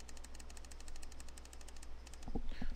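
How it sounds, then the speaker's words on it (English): Assault rifle in a shooter game firing rapid single shots, an even, steady string of sharp cracks at a quick rhythm, followed by a few loud mouse clicks near the end. "And here's fast single fire."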